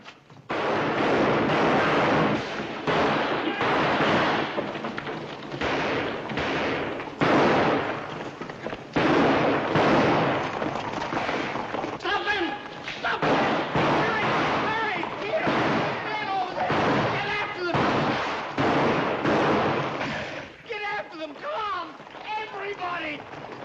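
Gunshots in an old western film crack repeatedly and irregularly, loud and close, blending with shouting and commotion throughout.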